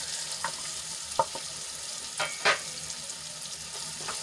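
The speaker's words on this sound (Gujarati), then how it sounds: "આપણે એમાં એક ઝીણી કાપેલી ડુંગળી એડ કરી લઈશું" Finely chopped onion added to oil with ginger, garlic and chili paste for a dry eggplant dish, a soft sizzle under a few sharp stirring clinks and scrapes, close and moderately quiet.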